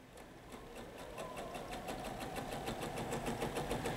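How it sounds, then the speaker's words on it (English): Sewing machine stitching straight-grain quilt binding along a diagonal line, a steady fast mechanical whir with rapid needle ticks, close and continuous, growing slightly louder after the first second. "I'm going to start sewing, so I will be sewing on that diagonal line"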